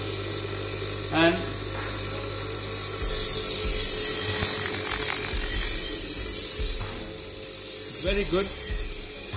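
A CATRASHARP electric knife sharpener works a blunt knife, its motor whirring with gritty grinding passes and brief scraping strokes, loud and close, while someone speaks briefly.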